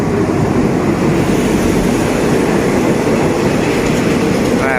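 Train 254, hauled by Alsthom locomotive 4216, rumbles loudly and steadily at close range at Pak Tho station, Thailand, in rain, a constant dense roar of wheels and engine with no pauses.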